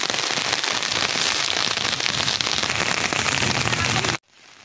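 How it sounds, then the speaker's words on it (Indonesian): Heavy rain pours down in a steady, dense roar of drops close by, loud and unbroken for about four seconds before cutting off abruptly into quiet. "karena hujan semakin deras"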